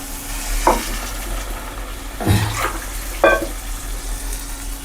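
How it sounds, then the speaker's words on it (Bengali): Water splashes into a pan of sizzling matar paneer masala in three separate pours, each a short splashing hiss, over a low steady background hum with no talk. "1 কাপ জল দিয়ে দিলাম বন্ধুরা।"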